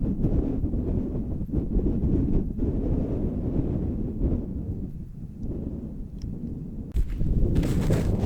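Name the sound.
wind on a snowy mountain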